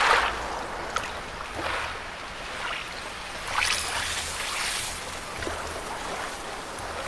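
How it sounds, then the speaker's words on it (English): Synthesized robotic space-wave sound design with reverb and ping-pong delay, soft whooshing swells that sweep in and fade, with small clicks and a faint tonal layer. "you kind of get these like robotic left and right. I would call them space waves"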